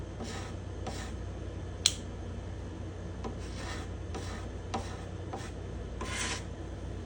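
A cabinet scraper shaves guitar binding along a spruce top in repeated short rasping strokes, about eight in a row, close and crisp, with one sharp tick among them and no speech.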